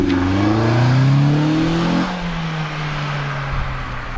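A fast car accelerates hard from inside the cabin, the loud engine note climbing, dropping sharply at a gear change, then pulling steadily again.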